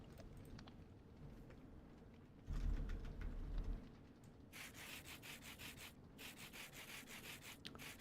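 Sandpaper rubbing against wood in modded Minecraft, a steady scratchy rasp with a louder, heavier burst of grinding near the middle before settling back into repeated rough strokes.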